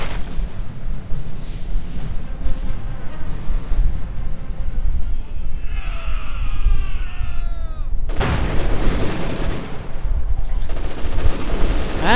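Gunfire and heavy explosions from a Company of Heroes 2 battle with a machine gun bunker, a Panzer IV and an ISU-152, forming a dense, continuous rumble with a loud blast near the end.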